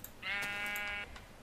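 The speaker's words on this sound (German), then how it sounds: "Ein kleines, unschuldiges Schäfchen." A Minecraft sheep lets out a single drawn-out, nasal bleat of under a second, clear and close over a faint hiss of game ambience.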